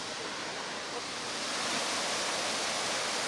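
Water crashes steadily down a waterfall in the 300-year-old water features of Kassel Wilhelmshöhe mountain park, a dense roar that stays loud and unbroken throughout.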